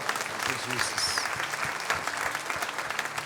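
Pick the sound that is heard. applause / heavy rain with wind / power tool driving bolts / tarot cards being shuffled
applause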